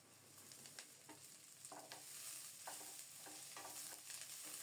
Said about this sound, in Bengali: সজনে পাতা ভাজা করব